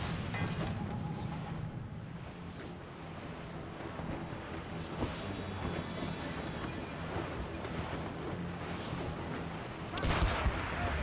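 Enemy ships firing cannons in Assassin's Creed Rogue, heard as deep booms over rushing waves and wind at sea, with a stronger blast near the end.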